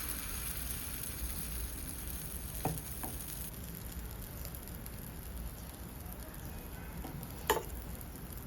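Appe batter frying in an oiled appe pan, a faint, even sizzle with a few soft ticks and clinks of the pan, close by with no talk.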